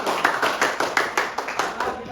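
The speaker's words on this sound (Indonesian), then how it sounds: "tepuk tangan untuk kita semua" A classroom group claps together at the end of a lesson on sexually transmitted diseases, a rhythmic run of about a dozen evenly spaced claps, close and fairly loud.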